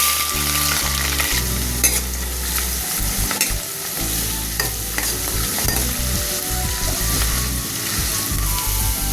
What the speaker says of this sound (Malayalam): കടുക് പൊട്ടിയതിന് ശേഷം ഇഞ്ചിയും വെളുത്തുള്ളി ഇട്ട് കൊടുക്കാം.